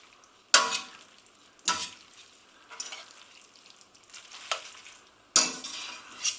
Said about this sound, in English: Give it all a good stir through with your pasta fork